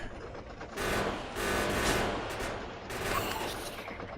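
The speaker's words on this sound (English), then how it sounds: "Plasma cannon is doing its work." Plasma cannon fire in the Factorio video game, Angel's and Bob's modded setup, a dense crackling barrage with swelling bursts around the second and third seconds, loud and continuous with no talking.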